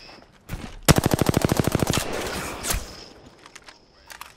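Rapid automatic gunfire in Apex Legends: a sharp single shot, then a fast burst of about fifteen evenly spaced rounds, followed by a trailing crack and scattered clicks as the firing stops.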